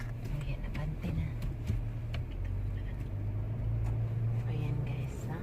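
An automatic-transmission car pulling forward after being shifted into drive: a low, steady engine hum and road rumble from inside the cabin, even and continuous, with a faint voice underneath.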